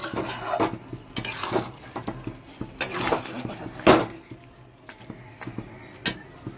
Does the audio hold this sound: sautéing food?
yes